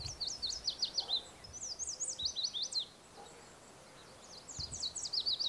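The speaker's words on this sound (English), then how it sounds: "A great thing about this spot has been the number of yellow warblers that are here." Bright, quick yellow warbler songs ring out in repeated sweet phrases, fairly faint and at a distance, with pauses between bursts.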